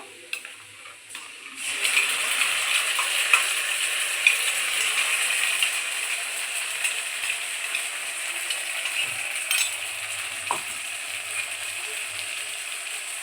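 After a quiet start, a loud steady sizzle begins as ground spice paste hits hot oil, continuing with occasional stirring scrapes and knocks.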